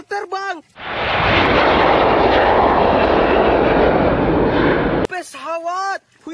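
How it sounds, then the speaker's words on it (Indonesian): Airplane flying overhead, a loud sustained broadband engine roar that rises abruptly and cuts off, with excited voices talking before and after. "kapal terbang"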